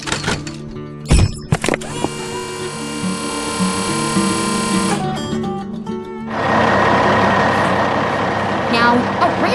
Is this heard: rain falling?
no